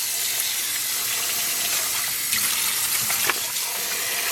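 Dyed yarn being rinsed under running water, a continuous hissing stream with a few splashy surges as the wet fibres are handled, no voices.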